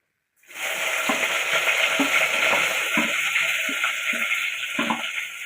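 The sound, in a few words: crushed onion, garlic and ginger frying in hot oil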